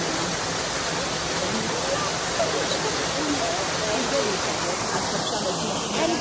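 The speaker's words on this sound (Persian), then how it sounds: "خب اینم آبشار باغ گیاهشناسی." A waterfall in Tehran's National Botanical Garden gives a steady, even rush of falling water that stays constant throughout, with a voice faintly audible beneath it.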